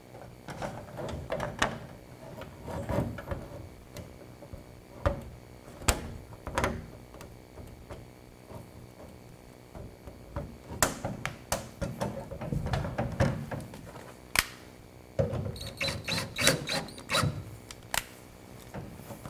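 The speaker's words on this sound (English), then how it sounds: "we're just gonna screw this panel back in place" An automotive door panel is screwed back into place, with scattered clicks, knocks and short scraping handling sounds at close range and quiet pauses between them.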